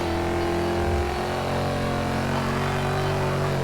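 A car engine holds a steady, droning hum as it pulls out of a corner under throttle. It is heard from inside at moderate loudness with a faint low whine, and no one speaks over it.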